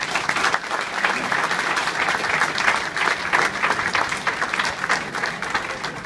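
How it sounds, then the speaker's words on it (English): A large audience applauding at a dedication event, sustained dense clapping at an even, loud level from start to finish with no speech over it. "we should give you a big round of applause for that."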